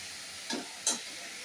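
Leafy greens fry in a pan with a soft, steady sizzling hiss, cut by two quick scraping stirs close by.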